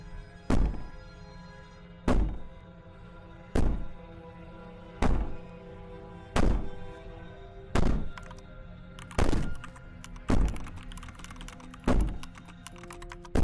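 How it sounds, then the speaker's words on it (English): Heavy banging from Slay the Princess thuds at a slow, regular pace, about ten loud blows spaced roughly a second and a half apart, each with a ringing tail over a low, droning background. "Maybe the banging and wailing will stop if you just don't pay attention to it."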